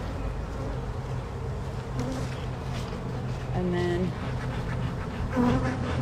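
Honey bees hum densely around frames pulled from an open hive, a steady close buzz that swells now and then as individual insects pass, with a person speaking briefly over it.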